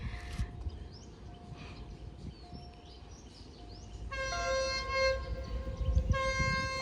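A delayed passenger train arriving at Salaya station: a low, rumbling approach builds beneath distant ambience, then a loud, sustained horn blares twice in the second half.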